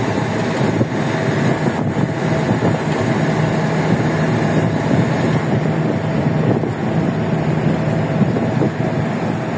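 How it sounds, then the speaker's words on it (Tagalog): Strong wind buffeting the microphone on the Skyway in the Philippines, a loud continuous roar with gusty surges and a low rumble underneath. "Lakas ng hangin."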